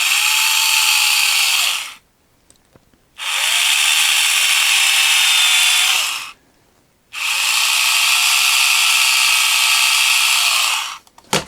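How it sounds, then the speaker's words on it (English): A power drill slowly bores a hole about 5 mm deep into the arm of a Mattel Space 1999 Eagle toy figure. It gives three long, loud, steady whirs close by, with short quiet pauses between them. "I'm going to drill very, very slowly and only drill in about 5mm"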